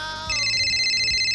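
A phone ringtone chimes loudly and close, a bright electronic melody starting abruptly and continuing steadily.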